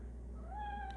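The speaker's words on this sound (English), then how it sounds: "that's my cat meowing if you heard that" A house cat meows once in a short, rising, drawn-out call indoors, sounding fairly close over a steady low background hum.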